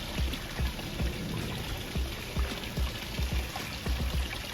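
Water pours and splashes in a steady wash onto a net over a pond, with soft dripping taps scattered throughout.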